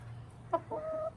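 A backyard chicken gives a short pair of close clucks followed by a brief drawn-out squawk, with windy outdoor rumble underneath.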